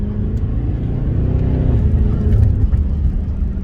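BMW 650i coupe with a 4.4-litre twin-turbo V8 taking a tight turn on a winding road, its engine a steady close rumble with a slight swell partway through, with no talk over it.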